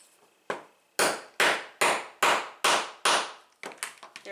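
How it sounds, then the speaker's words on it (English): Hammer blows drive a snap fastener into a small coin pouch key chain: a few sharp, close strikes, then a run of evenly spaced heavy hits followed by quicker lighter taps. "to make sure I do hammer it."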